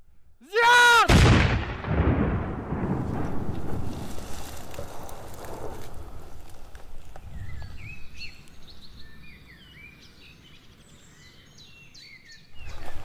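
A controlled detonation of unexploded ordnance during explosive disposal in Kosovo: one loud, sharp blast and a long rumbling roll that fades out, then faint birdsong in the quiet that follows.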